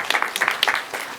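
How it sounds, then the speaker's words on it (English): Audience applause at an ICT summit: a short burst of scattered clapping at moderate level, with no talk over it. "Please give him a round of applause there."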